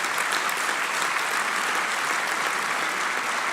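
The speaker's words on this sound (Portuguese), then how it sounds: "Uma grande salva de palmas para eles." A large convention crowd at a political party gathering applauds, a loud, continuous, even wash of clapping with no pauses.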